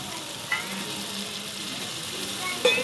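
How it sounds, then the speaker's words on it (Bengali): Ground mustard paste dropped into hot oil and spices for a mustard chicken curry, giving a steady crackling sizzle with a sharp splatter near the end. "এই সময় ঠিক আমি বেটে রাখা সরষাটা দিয়ে দেব।"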